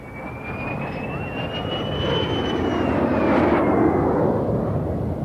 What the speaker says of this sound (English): Air Show of 1952 was packed to watch Derry fly supersonically in a new de Havilland fighter, the DH-110